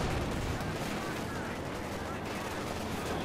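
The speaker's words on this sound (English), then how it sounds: "The German mortar trying to sort of counter-bombard Trainz' mortar" German mortar fire during a counter-bombardment in the Company of Heroes 2 strategy game, a dense wash of explosions and gunfire rolling continuously beneath a caster's commentary.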